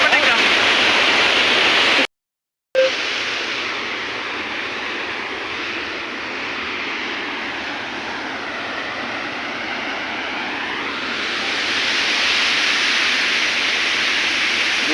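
Sukhaldari waterfall near Garhwa pours out a steady, loud broadband roar of rushing water that runs continuously, broken only by a brief dropout near the start and swelling slightly toward the end.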